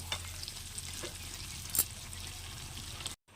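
Meat and potatoes are slowly stir-fried in a pot with a little meat stock, giving a low sizzle and scraping stirs, one sharper clank near the middle, and a sudden cutoff at the end.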